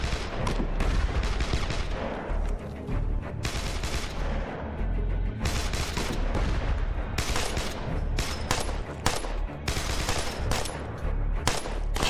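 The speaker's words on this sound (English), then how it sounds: "That's probably the grenade launcher." Grenade launcher fire in the zombie survival game State of Decay, Lifeline mode: dense, loud bursts of shots and blasts crowd together with almost no pause for about twelve seconds.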